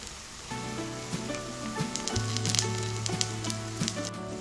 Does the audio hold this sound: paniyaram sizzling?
yes